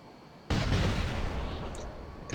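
A Redeemer plasma weapon fires in the War Robots video game, a single sudden heavy blast that hits hard and decays into a long booming rumble, with a faint click near the end.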